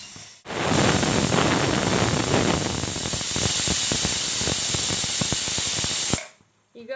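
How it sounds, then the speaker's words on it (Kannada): A pressure cooker on a gas stove vents in one long, loud steam hiss that lasts about six seconds, then cuts off abruptly into quiet. "ಒಂದು ವಿಷಲ್ ಆಯಿತು ಆದ ತಕ್ಷಣ ಗ್ಯಾಸ್ ಆಫ್ ಮಾಡಿಬಿಡ್ಬೇಕು"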